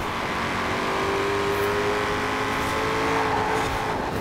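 Ford Mustang RTR Spec 5 in Forza Horizon 4 racing through a sharp corner, its engine a steady loud drone with a faint tire squeal, continuous and close throughout.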